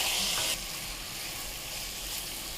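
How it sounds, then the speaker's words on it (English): Sliced brinjals hiss and sizzle steadily in a pan of masala for kathrika kara kulambu, a dense, continuous frying noise that starts a little louder and then settles, with no voices. "Now let's add the sliced brinjals so that they too cook in this masala."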